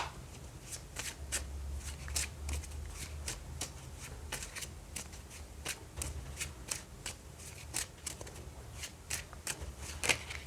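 A deck of tarot cards being shuffled by hand, a quick run of crisp riffling flicks and soft slaps repeating steadily, close and quiet with no voices.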